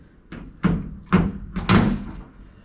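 Doors on a Factory Five 35 Hot Rod Truck being pushed shut: four separate solid thunks about half a second apart, close and fairly loud, with a faint latch clatter on each and no voices.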